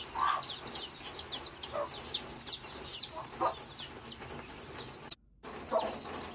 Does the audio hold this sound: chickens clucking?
yes